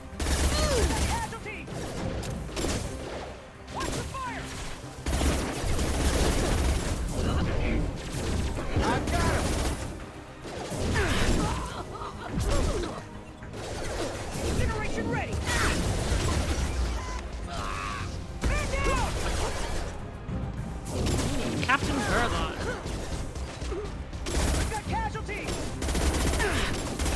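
Sustained gunfire in a Mass Effect firefight, dense bursts of automatic weapons and heavy impacts rolling on without pause, loud and close, with voices shouting over the combat.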